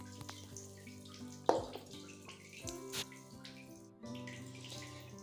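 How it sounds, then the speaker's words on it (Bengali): Puffed rice rinsed in water in a kitchen and then drained, with soft splashing, trickling and a few sharper knocks of a vessel, quiet and close. "ধুয়ে জলটাকে ফেলে দেব।"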